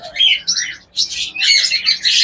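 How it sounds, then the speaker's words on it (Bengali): A pair of lutino Fischer's lovebirds give sharp, high chirps and squawky calls in quick bursts, close by and loud, with brief gaps between calls. "এরপর দেখুন এখানে রয়েছে চমৎকার একটা জোড়া লুটন ফিশার"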